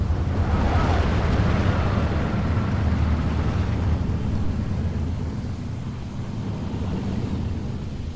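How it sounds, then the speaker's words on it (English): Artillery and mortar fire in the WWII strategy game Steel Division: a continuous, loud low rumble of distant barrages with dense booming texture, easing slightly toward the end, with no voices. "He started now firing using the artillery and the mortars as well."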